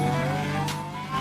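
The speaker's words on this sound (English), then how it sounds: "That's a McLaren." A McLaren car engine drones in a brief, loud, steady tone with a rising rev near the end.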